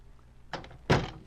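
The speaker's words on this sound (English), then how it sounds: "Close the door and come in." Door closing in an old radio drama, a brief rattle of the latch followed by a firm, close thump, short and clean with no voices over it.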